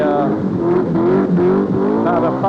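A 1979 rally car's engine runs at a rally sprint event, loud and close, its pitch rising and falling in repeated revs as it accelerates.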